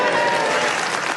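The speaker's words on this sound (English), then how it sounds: "his family will be delighted to hear that extra round of applause" A studio audience at a radio panel game bursts into loud, sustained applause, a thick wash of clapping hands that stays even before easing slightly at the end.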